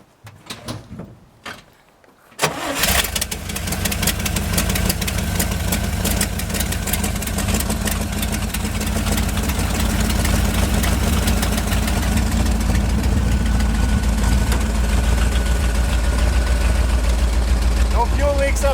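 A 1971 International engine cranks and catches after a couple of seconds of quiet clatter, then runs steadily at a loud, low idle for the rest of the clip. A voice talks occasionally over the engine.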